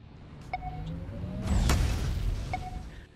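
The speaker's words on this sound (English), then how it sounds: "And now we'll show the sound of critical damage using Hornet's Overdrive." Critical damage effect from Hornet's Overdrive in the Tanki Online tank game: a short tonal ping, then a loud swelling whoosh and booming impact that peaks mid-clip, with another brief ping tone near the end, no speech.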